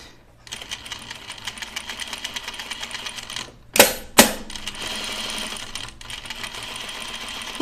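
Sewing machine stitching knit fabric at a slow, steady pace, a continuous close mechanical whir with a couple of sharp clunks partway through before stitching resumes.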